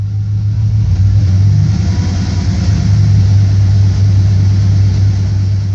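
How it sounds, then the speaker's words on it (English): A truck with a 46RE automatic transmission, in second gear, is held at about 1000 RPM, giving a constant, close, deep engine rumble with slight throttle wavering and no voices. "Bring the truck up to 1000 RPMs."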